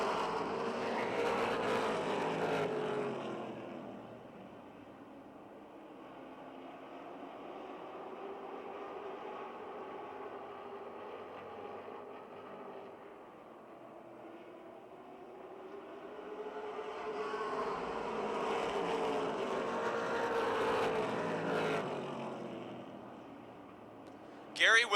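Stock cars race around the Motordrome Speedway oval in a roaring pack that swells loudly as it passes, fades to a distant drone down the far side, then sweeps close again, while an announcer calls the race throughout.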